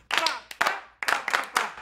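A group claps together in a brisk rhythm right after chanting a welcome slogan: several crisp, loud bursts of hand claps in close unison, with short pauses between the beats.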